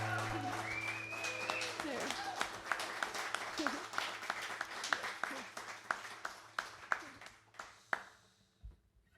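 Applause and cheers from a small crowd at a live Danika & the Jeb concert in Birmingham, Alabama, starting dense with a whoop over it, then thinning into a few scattered, separate claps that fade out.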